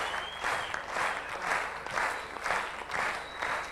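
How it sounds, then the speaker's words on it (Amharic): Warm applause from an audience at a student quiz competition, steady, rhythmic clapping of moderate loudness swelling in waves, with no voices over it. "እባካችሁ ሞቅ ባለ ጭብጨባ ወደ ቦታዋ ተሸኙናላችሁ።"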